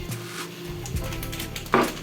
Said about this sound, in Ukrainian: Тепер у свою сковорідку я додаю 2 стакани рису.